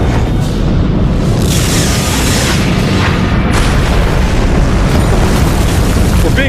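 A massive explosion in a sci-fi space battle rumbles loud and continuous, a dense roaring boom with crackling bursts that sustains throughout.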